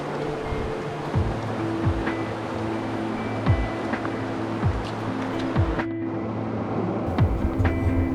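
The Carson River rushes past rocks where a hot spring runs straight into it, a steady close wash of flowing water with faint low rumbles underneath and no voices.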